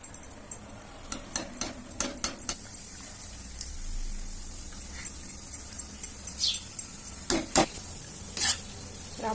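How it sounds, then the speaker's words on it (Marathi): Sweet boondi batter droplets frying in hot oil, a soft steady sizzle broken by many close metallic clinks and scrapes of a slotted spoon against the pan, no talk. "तेल आपलं गरम झालेलं आहे. आता आपण बुंद्या सोडूया."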